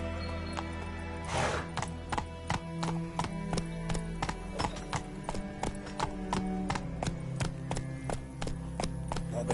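Roach, a horse in a video game, trots with steady, evenly spaced hoof clip-clops close by, the rhythmic footfalls continuing throughout alongside a brief breathy snort or whinny near the start.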